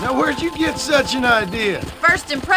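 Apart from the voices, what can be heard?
No everyday noise stands out behind the speech.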